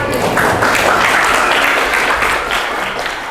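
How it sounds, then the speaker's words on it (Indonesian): A classroom full of students breaks into a dense round of clapping, loud and close, sustained for a few seconds before starting to taper. "Tepuk tangan untuk kita semua"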